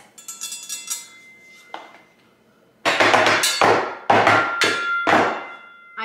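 A metal flat top griddle spatula set is handled up close: light clinks and rattles at first, then several loud ringing metallic clangs as the pieces knock together, with no talking.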